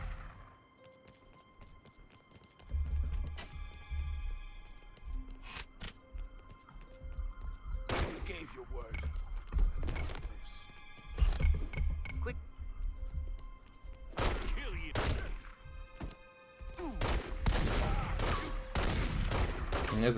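Pistol shots crack out in The Godfather video game, sharp isolated reports and short volleys scattered over about twenty seconds amid game sounds, with a voice talking intermittently.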